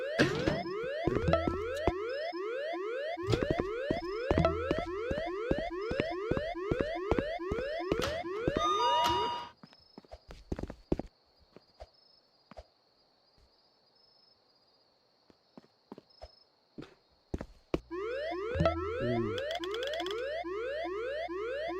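A car alarm blares in a loud, rapidly repeating rising whoop for about nine seconds, cuts out into near silence with scattered small clicks, then starts wailing again near the end.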